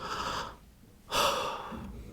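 A person demonstrates a gulp of breath with two sharp, close airy inhalations, each followed by a pause. No words are spoken.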